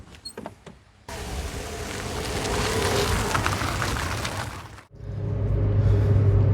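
A Volkswagen Polo with a 1.6 engine accelerates, its engine and road noise swelling into a steady loud rush that breaks off briefly before resuming.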